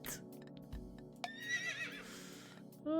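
A horse in an indie video game lets out a whinny, a clear rising and falling neigh, preceded by a few clip-clop hoof knocks and other game noises, moderately loud with no talk.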